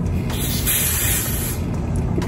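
Hair spray from an aerosol can misted onto a 13x4 ginger water wave lace wig, a steady continuous hiss lasting the whole moment, close and fairly loud with no talking over it.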